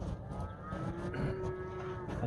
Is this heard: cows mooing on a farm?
yes